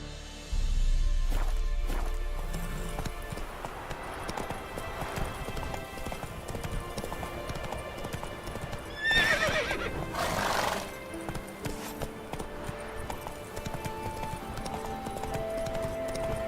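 Horse hooves clip-clopping in The Witcher 3 video game, a steady rhythmic trot with neighs and whinnies partway through, over in-game ambience, no talk.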